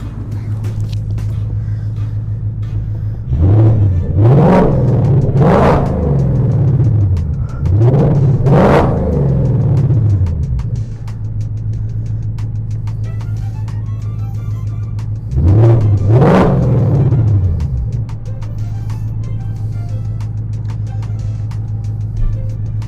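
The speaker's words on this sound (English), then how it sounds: "Let's give it a few revs." A 2024 Ford Mustang fitted with an MBRP exhaust idles with a steady low rumble, then gets a series of sharp revs: two quick blips in a row, another burst, and a final rev after a pause, loud and close with no talk.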